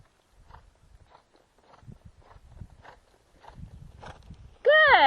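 Horse hooves walking in a reining lesson arena, a steady soft clip-clop of footfalls at close range, then a sudden loud tonal squeal or whinny-like burst at the end.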